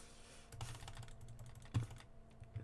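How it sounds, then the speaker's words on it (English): A computer mouse is clicked hard and fast during a game, giving faint, close, irregular clicks in a quiet room. "I can hear how intensely I click the mouse when I'm playing the game"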